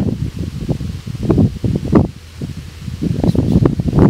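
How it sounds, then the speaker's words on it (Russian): Gusty wind buffets the microphone in low, irregular rumbling bursts, rising and falling over a few seconds with no voices, outdoors at a seaplane test flight. "Ветер попер"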